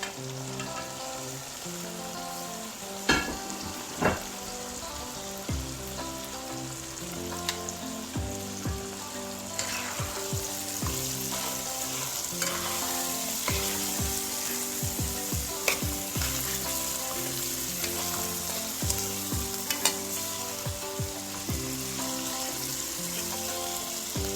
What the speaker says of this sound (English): I will now go ahead and add the gungo peas to the pot